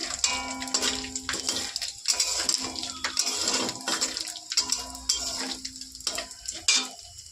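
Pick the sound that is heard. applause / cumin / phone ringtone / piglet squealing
cumin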